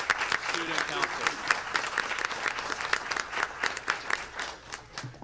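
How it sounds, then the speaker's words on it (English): Applause for a student council at a school district board meeting. Dense, even clapping from a room full of people rises and falls in bursts over about five seconds. "So how about a round of applause for the E.C. Mason Student Council?"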